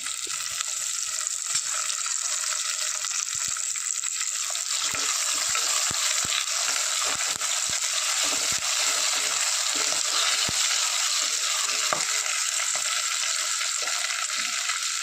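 Bird's eye chili, ginger and green chili sauté in oil for a rose apple pickle, producing a constant dense hissing sizzle with faint low knocks scattered through it. No one speaks.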